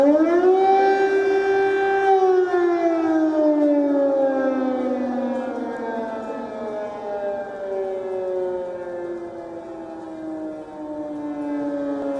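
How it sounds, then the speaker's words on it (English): An air raid civil defense siren wails across Kyiv at night, one loud sustained tone that slides slowly downward in pitch and fades gradually while still sounding. "Sirens in Kyiv continue to ring through the night."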